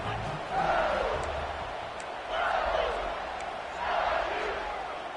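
A stadium crowd yells and roars in the video game College Football 26 during a Washington vs LSU matchup, loud and sustained, swelling in three waves over a dense, noisy crowd bed.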